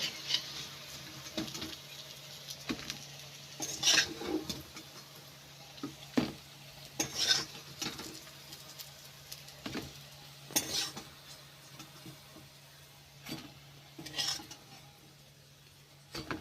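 Pointed gourd fritters fry in hot oil, a soft sizzle broken by repeated clinks and scrapes of a utensil turning pieces in the pan, moderately near with no talking.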